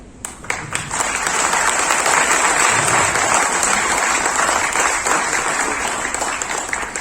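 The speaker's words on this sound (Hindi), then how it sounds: "एक ताली बनती है" An audience at an insurance agents' seminar breaks into loud, dense clapping that swells quickly and holds steady, a full hall of hands applauding together.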